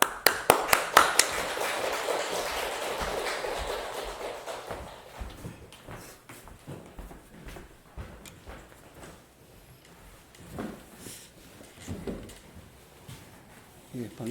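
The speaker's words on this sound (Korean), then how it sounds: "우리 나오실 때 환영의 박수하도록 하겠습니다." A church congregation applauds to welcome a pastor to the pulpit, with a burst of clapping at the start that fades into a quieter room with scattered voices and movement.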